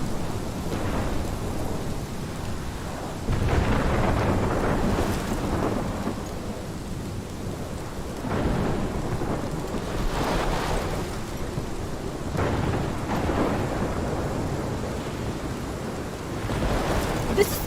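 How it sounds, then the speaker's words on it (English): A thunderstorm rolls through the video game Life is Strange, heavy steady rain hissing throughout while deep thunder rumbles swell and fade several times, without talk. "This is my storm."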